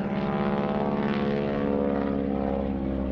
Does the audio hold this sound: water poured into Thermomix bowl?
no